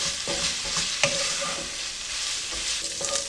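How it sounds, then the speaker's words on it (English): Sausage browns in its own fat in a pan for a breakfast casserole, giving a constant close sizzle broken by several sharp spatula scrapes and knocks as it is stirred. "Just make sure your sausage is cooked through. Cooks up pretty fast."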